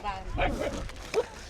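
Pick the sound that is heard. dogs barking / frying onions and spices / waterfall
dogs barking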